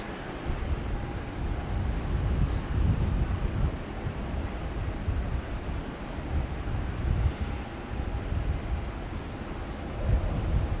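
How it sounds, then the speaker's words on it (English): Strong gusting wind buffets the microphone at Brisbane airport, a constant low roaring rumble with surging swells, alone without voices. "It's very windy, I can't explain to you."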